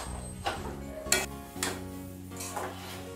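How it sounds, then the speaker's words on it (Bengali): Fried pointed gourd stirred in spice paste in a home kitchen pan, with a few distinct scrapes and clinks of the spatula against the pan over a soft sizzle, quiet and close. "দিয়ে ভালো করে পটলগুলো মশলার সাথে কষিয়ে নিচ্ছি।"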